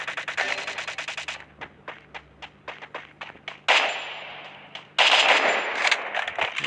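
Rapid gunfire from an M4A1 rifle in the Free Fire mobile game during a ranked clash match, with sharp repeated shots in bursts, some isolated single cracks, and louder dense volleys near the end.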